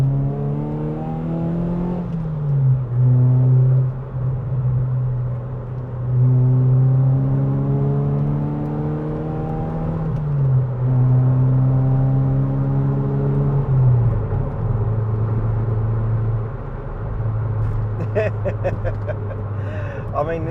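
Ford Fiesta ST150 hot hatch engine while driving, a steady droning tone that rises through the revs, dips at gear changes around a few points, then climbs again, continuous and close throughout.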